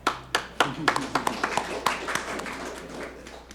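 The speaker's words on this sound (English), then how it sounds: "Yeah, we can clap for that." Meeting attendees clap in a small, uneven burst of individual hand claps that thins out over a few seconds, heard fairly close in an indoor room.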